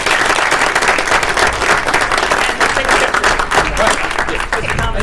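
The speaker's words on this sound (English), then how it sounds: "let's give Ben one more round of applause for being here" Loud, sustained applause from the room at a school board meeting, many hands clapping steadily throughout with a murmur of voices underneath.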